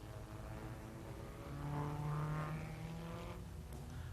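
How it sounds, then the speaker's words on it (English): A Formula 2 Cooper Climax race car at the 1957 German Grand Prix roars past with a steady, buzzing engine note that swells briefly as it goes by, heard at a distance amid a dense, noisy track atmosphere. "here's Englishman Roy Salvadori in his Formula 2 Cooper Climax"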